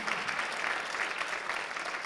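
Congregation at a Sunday church service claps together in a short, even round of applause, moderately loud and unbroken, with no voices over it.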